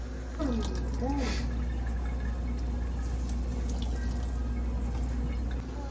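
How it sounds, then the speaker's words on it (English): Water drips and trickles steadily as grated zucchini is wrung out in a loose-weave kitchen towel, heard up close beneath a person talking. "then you're gonna try and squeeze all the water out of it"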